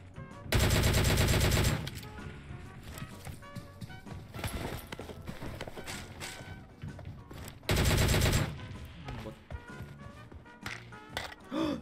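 Thompson submachine gun in PUBG Mobile firing two loud, sustained automatic bursts, each about a second long, with quieter game sounds and shuffling in between.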